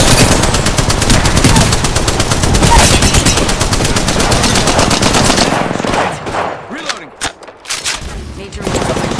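Rapid automatic gunfire from a weapon in the Apex Legends battle royale shooter, a loud sustained burst for about six seconds, then scattered sharper shots and impacts as the firing thins out.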